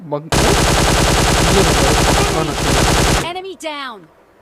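A long, rapid burst of automatic gunfire in PUBG Mobile Lite hammers continuously for about three seconds, loud and close, then stops as a voice speaks briefly.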